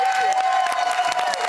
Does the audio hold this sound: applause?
yes